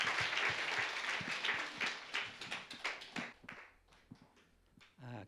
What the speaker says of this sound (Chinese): 我们将掌声献给我们的上帝